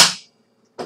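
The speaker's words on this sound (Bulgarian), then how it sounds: "Още стрелба, момчета!" Air rifle shots in Garry's Mod: two sharp bursts, one at the very start and one near the end, split by a short, almost silent gap with a faint low hum.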